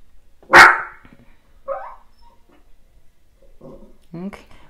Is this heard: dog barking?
yes